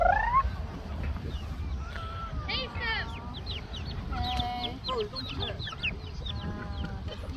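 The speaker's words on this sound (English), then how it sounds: "Chicken on the beach. Chicken everywhere." Wild chickens on a beach in Hawaii cluck and squawk repeatedly at close range, in short, busy bursts over outdoor background noise, while people talk nearby.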